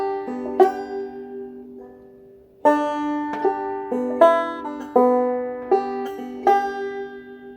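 A bluegrass banjo plays a phrase of Silent Night with a forward roll, giving bright plucked notes in rolling clusters. After a short pause the picking gets louder, close and clear, with no talk over it.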